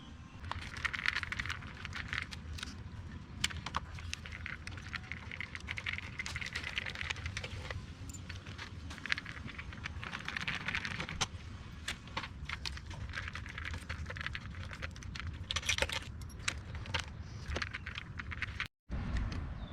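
Torx 30 bolts being worked loose from the clutch cover of a KTM 1290 Super Duke, a steady run of small close metallic clicks and ratchet taps over a low background hum, with no talk.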